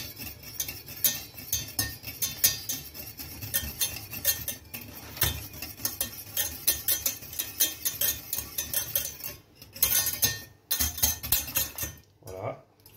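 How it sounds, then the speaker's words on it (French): A whisk stirring butter as it melts in a pan, with steady metallic scraping and tapping against the pan, a brief gap before resuming, close and fairly quiet with no speech. "Vous allez vous aider d'un fouet. Vous mélangez bien."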